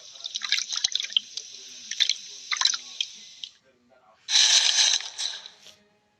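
Water dripping and splashing in bursts as a strainer scoops floating sawdust off the water's surface in a beaker, during a sand and sawdust flotation separation experiment; close, irregular trickles with a louder pour near the end.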